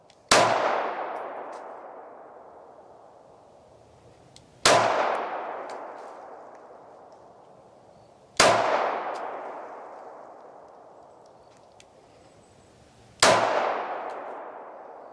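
Four single S&W Equalizer pistol shots, each followed by a loud metallic clang of the steel target that rings and fades slowly, spaced about four seconds apart.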